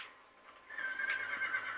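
Horse neighing while being broken in Red Dead Redemption: a strained, whinnying call rises at mid-clip and holds steady and fairly close, with no talk over it.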